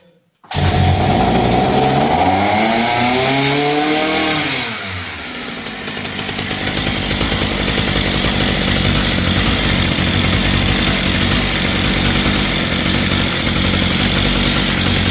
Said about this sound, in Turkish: Buraya kadar tam basıp starter çekeceğiz şimdi. Biraz daha yere koyalım motoru. Starter çekiyoruz.